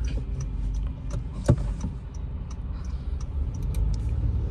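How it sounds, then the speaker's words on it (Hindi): Honda City 4th gen car pulling away gently on a slope, a steady low engine hum and road rumble with a brief thump partway through, no talk. "अभी बिल्कुल हमने इस गाड़ी को नॉर्मली पिक करा है, मैंने कोई भी रेस नहीं दी है।"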